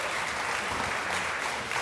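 Steady, dense applause from an audience at a city health commission meeting, continuous and fairly loud throughout with no voices over it.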